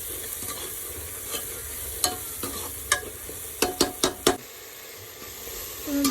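Masala of onion and tomato frying in oil for veg pulao, with a steady soft sizzle and a few sharp spoon knocks against the pan clustered near the end, close and without voices.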